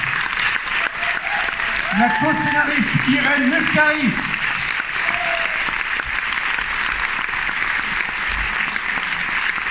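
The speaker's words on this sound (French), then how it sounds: "Faites-leur des applaudissements en fanfare." Audience applause welcoming a film team onto a stage at a cinema club event, a dense, loud burst of clapping sustained throughout, with a presenter's amplified voice speaking over it.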